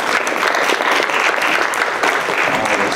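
Audience applause at an arts event, a steady, loud wash of clapping hands filling the whole short stretch.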